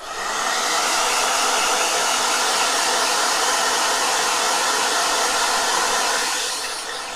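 Blow dryer running steadily at full power to dry a watercolor painting, a continuous loud whooshing hiss that ramps up at the start and eases off at the end.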